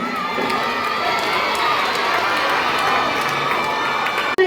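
An audience at the 33rd annual day of Shantinikethan Matriculation Higher Secondary School applauds and cheers loudly and continuously, a dense crowd roar of clapping with some children shouting.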